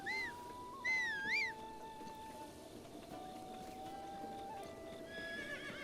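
A horse in the video game Breath of the Wild whinnies in a short warbling burst near the start, followed by soft hoof clops and a steady low hum in the background.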